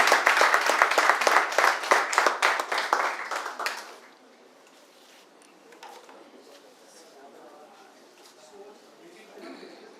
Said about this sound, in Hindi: जोरदार तालियों से हम स्वागत करेंगे